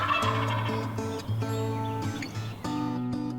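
A wild turkey gobbling during a Pennsylvania spring hunt, with several rapid rattling gobble calls mixed with other bird calls outdoors, fairly clear, with no talk.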